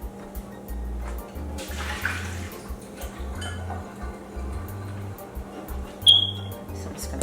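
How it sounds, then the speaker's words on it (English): Water used to soak turkey necks is poured off in a kitchen, giving a brief rushing splash with clinks of pots and dishes over a steady low hum. "I'm gonna throw this water off"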